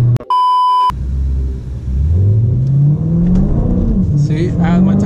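An automatic Dodge SRT drops into kickdown as a brief electronic beep gives way to a loud engine rev that climbs steadily in pitch, heard from inside the car.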